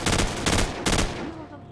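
Rapid bursts of gunfire in a shooter video game, three loud close clusters of shots in quick succession that fade into a brief tail at the end.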